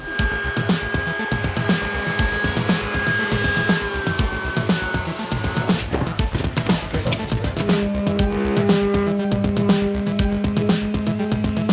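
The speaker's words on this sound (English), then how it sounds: "The big sander really strips it down nice, but because it's round, it like doesn't get into those corners." A large round sander grinds across old hundred-year-old wooden stair treads, a loud, steady, unbroken whine with rough scraping texture and a brief hum change partway through, no voices.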